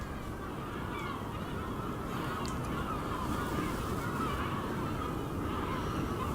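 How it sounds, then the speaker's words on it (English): Seabirds call at night near a campsite on a shore, a steady chorus of honking cries heard from a distance over constant background noise, with no talking. "I know the seagulls are going."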